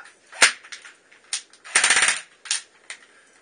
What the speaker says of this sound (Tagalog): Tanggal bala. Paputok na isa.